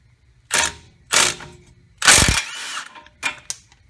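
A wrench works on a front wheel bearing bolt of a Honda Civic: a few loud, close mechanical clicks and ratcheting bursts with short pauses between them, with no talking.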